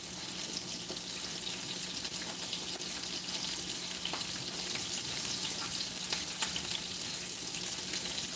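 Sliced parsley root frying in butter in a pan, a steady close hiss and fine crackle running evenly throughout with no voices.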